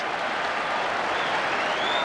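A football crowd at Loftus Road cheers and applauds at the final whistle. The roar and clapping are loud and dense, sustained throughout with no pauses.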